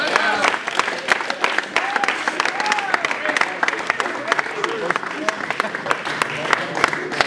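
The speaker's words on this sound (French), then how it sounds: "fais du bruit pour l'MC!" A crowd at a French-language MC battle rap event claps and cheers loudly for the emcee, continuous dense applause with whoops and shouted voices mixed in throughout.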